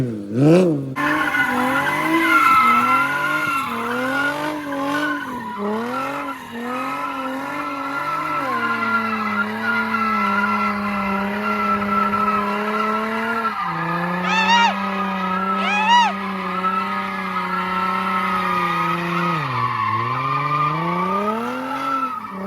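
Car spinning donuts at a car meet, engine revving up and down in repeated sweeps with loud skidding and squealing tires, sustained and close, with a few sharp high tire screeches.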